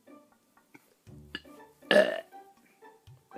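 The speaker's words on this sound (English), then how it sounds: "Quit burping! Stop burping!" A loud, drawn-out burp from someone who has been drinking cream soda stands out among quieter short sounds and a few faint grunts.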